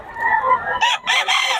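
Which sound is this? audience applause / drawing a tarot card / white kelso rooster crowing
white kelso rooster crowing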